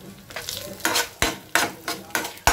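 Ajwain roasting in mustard oil in a pan, a steady crackling sizzle cut by five regular, sharp scraping strokes of a spoon against the pan, close and loud.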